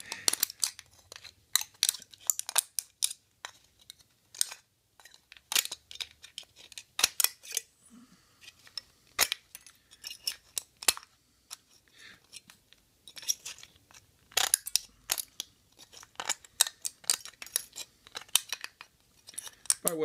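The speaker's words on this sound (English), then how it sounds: "Some tin snips." Tin snips cutting thin metal to make an alcohol stove, sharp crunching snips repeated in irregular bursts close to the listener, with quiet pauses between cuts.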